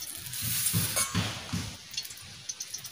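Oil going into a hot pan for a home-cooked potato curry: a short burst of sizzling and frying with soft stirring scrapes, fairly close, easing into quieter crackles.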